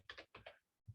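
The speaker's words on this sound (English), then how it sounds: "I'm still learning how to type on the keyboard." Computer keyboard typing: a brief run of soft, fast key clicks, quiet and close, with a single heavier tap at the end.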